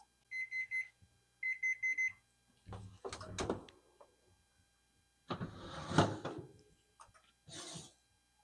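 A kitchen timer goes off in an Alaska homestead kitchen during supper cooking: two short bursts of rapid electronic beeping close by, followed by clattering and handling noises.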